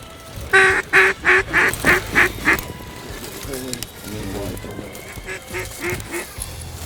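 Ducks and a drake calling as they fly in during a duck hunt in a Texas freeze, a run of loud rhythmic quacks and honks close by, then a second quieter series after a brief pause.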